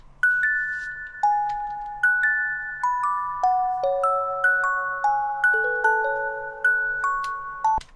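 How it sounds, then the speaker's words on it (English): A bell counter melody for a Punjabi drill beat, bright bell tones ringing out one after another in a steady repeating pattern, each note struck clearly and decaying, alone without any voice. "this is a bell counter"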